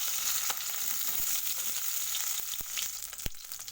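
Two hilsa fish heads frying in hot oil, a constant loud crackling sizzle with sharp pops and spits scattered throughout, heard up close with no talking.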